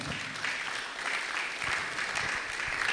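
Audience at a Skills for Success workshop claps for a youth business speaker being welcomed to give an address; dense, steady applause fills the whole stretch at an even, fairly loud level with no talking over it.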